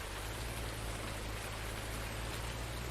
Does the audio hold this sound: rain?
yes